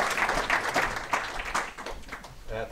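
An audience at a local history society talk applauds to welcome the speaker, steady moderately loud clapping throughout with a faint voice near the end.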